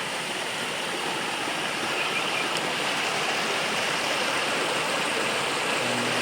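Clean water from the Khardu stream rushes steadily into the new intake of a third dam near Dharan, a loud, continuous broadband roar with no pauses or talk.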